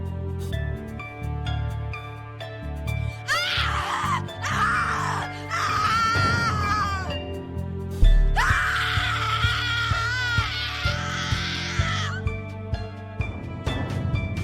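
Screaming in the horror video game The Cat Lady: two long, anguished, wavering screams, each lasting several seconds, rise over a low, dark musical drone with quieter moans in between.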